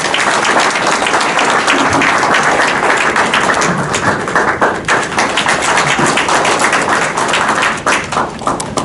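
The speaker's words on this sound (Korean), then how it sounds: "여러분 뜨거운 박수로 환영해 주십시오" A seminar audience at a foundation's special lecture gives loud, sustained applause to welcome a speaker, with thick overlapping claps and occasional thumps throughout.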